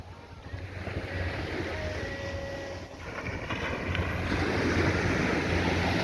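Waves washing onto the beach at the northwestern end of Carlisle Bay, Barbados, a steady surf wash mixed with wind noise on the microphone and a faint tonal hum in the background.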